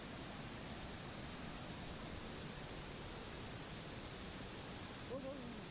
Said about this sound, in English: here comes the view of the waterfall